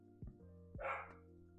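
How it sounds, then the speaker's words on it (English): A dog indoors gives a couple of short, quiet barks, with a faint whimpering yelp in between, heard from a little distance with no talking over it. "Those are my dogs."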